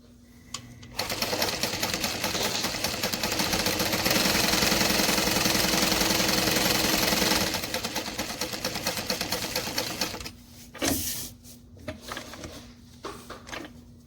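A sewing machine runs steadily for several seconds, stitching fabric corners with a back stitch, a loud continuous mechanical whir that stops abruptly, followed by a brief clunk and lighter handling sounds.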